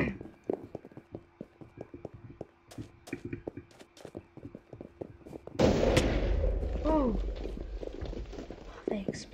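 In a video game, a block of TNT goes off after a run of scattered clicks and footstep-like taps, ending in a sudden loud blast with a rumbling tail while a voice talks throughout.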